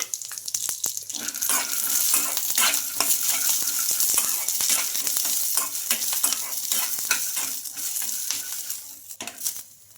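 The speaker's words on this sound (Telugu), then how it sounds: "ఇంకా పల్లీలు మిర్చి అండి బాగా ఫ్రై అయిపోయినాయండి" Peanuts and green chillies fry in hot oil in a pan with a steady, close sizzle, broken by scraping stir strokes and small rattles throughout.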